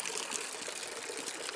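Heavy rain falling outdoors over soaked fields with standing water: a steady, dense hiss of downpour, even and continuous throughout, with no voices.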